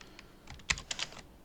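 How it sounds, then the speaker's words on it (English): A run of crisp, quick key clicks on a computer keyboard as a password is entered into an Ubuntu installer. The taps are close and irregular, with a firmer press near the middle and no voices. "You will not see your password while you're typing."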